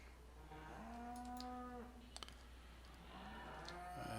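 Cows moo in a Farming Simulator 17 barn area, two long drawn-out lowing calls with a short clicking noise between them, over a steady low hum.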